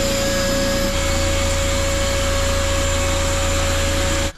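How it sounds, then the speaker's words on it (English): Vacuum cleaner drawing air through a 15 meter hose aboard a Dutch barge, a loud, steady whine with a sharp tonal hum. Its pitch shifts slightly near the start, and the noise cuts off abruptly at the end. "I now have my 15 meters of vacuum hose."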